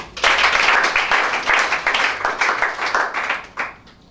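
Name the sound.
congregation clapping to acclaim Shaddai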